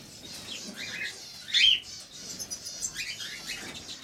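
Budgerigars kept with cockatiels chirp in soft, high, scattered tweets, with one brief louder burst. The calls are fairly faint against a quiet indoor background.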